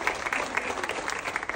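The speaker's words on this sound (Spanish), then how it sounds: "¡El aplauso!" A crowd at a school ceremony honoring teachers applauds in a steady, moderately loud wash of many hands clapping, with no voices standing out.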